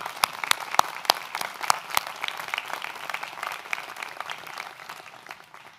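At a college presidential inauguration ceremony, an audience breaks into applause, with a few sharp close claps standing out over a dense wash of hands that slowly fades away.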